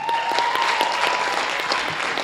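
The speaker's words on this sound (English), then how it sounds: "Give them a round of applause." A school concert crowd claps for the show's organizers, a dense and even burst of applause that fills the whole moment at steady loudness.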